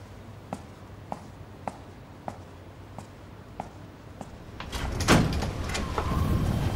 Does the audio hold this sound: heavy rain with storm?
no